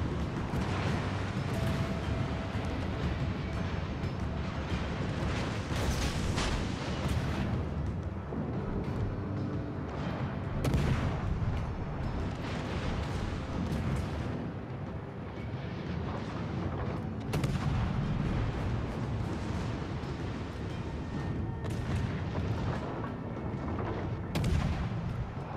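Warship guns thunder continuously in the naval battle game World of Warships: Legends, with a Vasteras cruiser in the fight; dense, overlapping booms and rumbling salvos fill the whole stretch at a steady loud level, with no voices.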